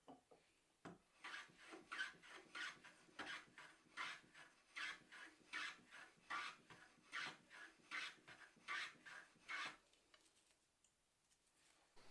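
A Stanley No. 4 hand plane shaves the corners off a wooden workpiece, making a rhythmic series of close, raspy strokes, about a dozen evenly spaced passes, then stopping into near silence.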